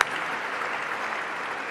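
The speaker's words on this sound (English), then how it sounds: "I think that's a very good place for a big round of applause." Applause from a gala audience at the Brotherhood Sister Sol Voices benefit, a dense, steady wash of many hands clapping that holds at an even level from start to finish with no voices over it.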